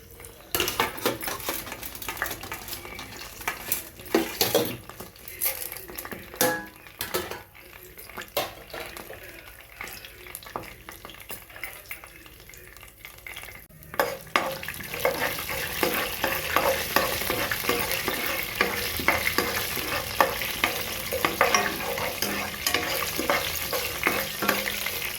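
Tempering seeds hit hot oil and crackle under frequent stirring, with sharp scraping clicks of a spoon against the pan. The sizzle swells louder and denser partway through, near and steady, with no talk over it.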